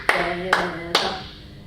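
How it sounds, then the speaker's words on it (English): A group claps hands together three times in an even beat during a children's action rhyme, with a sung tone sustained beneath the claps. "We all clap hands together."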